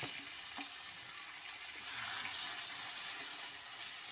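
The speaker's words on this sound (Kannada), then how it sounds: "ಈಗ ಕುಂಬಳಕಾಯಿನ ಬಾಣಲೆಗೆ ಹಾಕೊತಾ ಇದ್ದೀನಿ." Diced ash gourd going into a pan of hot ghee for halwa, giving a steady, close hiss and sizzle with faint watery crackle throughout, no voices.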